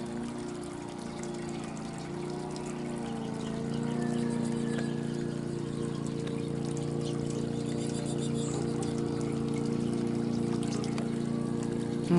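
A garden water fountain trickles steadily in a bird-filled yard, a soft continuous splashing with a low pump hum underneath, close and even throughout with no talk.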